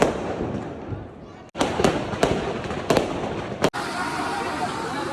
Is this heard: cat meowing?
no